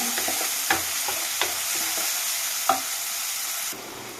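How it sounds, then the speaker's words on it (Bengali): Tomatoes cooking down in a pan for a chickpea bhuna, with steady broadband sizzling throughout and a few light scraping strokes of a spoon stirring, close and moderately loud, no voices, the sizzle dropping slightly near the end. "এটাকে কন্টিনিউ নাড়াচাড়া করে নিতে হবে"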